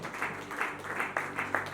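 An audience at a church gathering greets a reverend pastor with applause and cheering, a continuous crowd wash with repeated surges of louder clapping roughly every half second to second.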